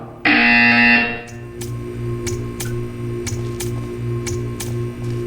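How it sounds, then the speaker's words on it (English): A loud electronic buzzer in the video game Portal 2 blares for about a second, followed by a series of evenly spaced sharp ticks over a steady hum. "You will hear a buzzer."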